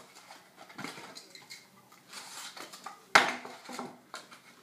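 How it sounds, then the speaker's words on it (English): A knife cuts through building insulation along a marked line: soft scratchy rustles and scraping strokes close up, with one sharper crackling cut partway through, quiet and without talking. "I just take my knife, I just follow that trace."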